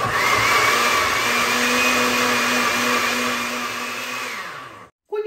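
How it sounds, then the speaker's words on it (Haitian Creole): Electric blender whirring loudly and steadily as it blends saffron and ginger with water, a constant high motor whine that slows slightly, then cuts off abruptly near the end. "moi mettez toute l'eau et puis je vais le blender"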